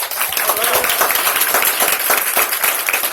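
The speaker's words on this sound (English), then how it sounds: "give yourselves a round of applause" A crowd claps loudly and steadily throughout, a dense wash of many hands applauding with no pause.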